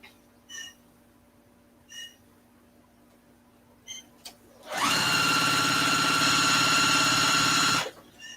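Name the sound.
sewing machine sewing tote bag handles together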